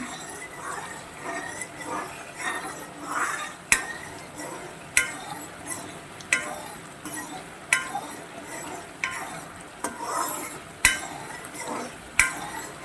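Kesari being stirred in a pan for a festival dish, a spoon scraping steadily with a sharp clack against the pan every second or so, over a soft sizzle.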